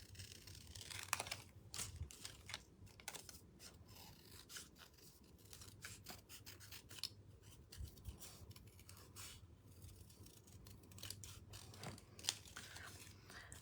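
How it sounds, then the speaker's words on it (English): Scissors snip out paper pieces for a scrapbook, a steady run of quiet, close cuts with soft rustling and crinkling of paper between them, with no talking. "I am just cutting them out with the scissors to speed up the process just a little bit"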